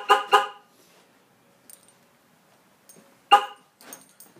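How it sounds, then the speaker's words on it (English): A 2003-2007 Chevy Silverado's Viper 3100V car alarm honks the horn twice in quick short blasts, then silence, then another loud honk with faint clicks between. "Lock and unlock, flashing lights, honking horn and siren."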